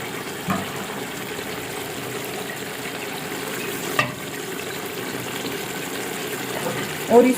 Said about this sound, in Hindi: और इसको अच्छे तरीके से जो है ना चिकन को फ्राई कर लेते हैं